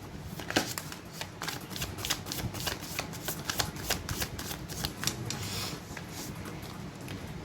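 Tarot cards are shuffled by hand in a steady run of crisp, rapid riffles and flutters, close and fairly quiet, with no talking.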